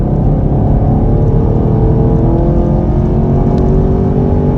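A 2021 Chevrolet Camaro LT1 accelerating hard at speed, a loud, steady engine drone with road and wind roar filling the whole stretch, no voices.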